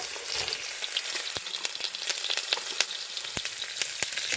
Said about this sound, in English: Fry them up.